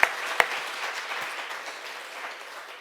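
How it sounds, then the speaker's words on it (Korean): A church congregation at a Friday prayer meeting claps briefly, a soft scattered round of applause that fades quickly, with a couple of sharper claps at the start. "우리 박수도 한번 칩시다."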